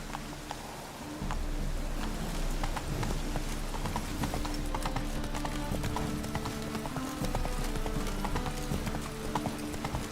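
Roach, the horse in the video game The Witcher 3, trots with a steady, close clip-clop of hooves over a low background drone, continuing after a quieter opening second.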